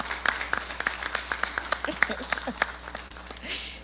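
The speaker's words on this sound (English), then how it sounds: "I'm asking that we all give this panel of wonderful panelists a hand clap." An audience at a fellowship gathering claps for a panel, distinct close individual claps in an uneven rhythm over a softer crowd patter, a voice briefly speaking toward the end.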